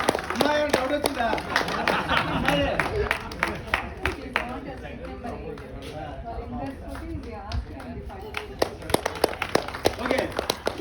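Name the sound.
applause for a runner at a 5K race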